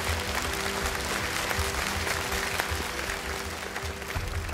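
Audience applause after three young singers perform a duet-style song on a children's singing competition stage, a steady dense clapping filling the hall throughout with a faint tonal hum beneath.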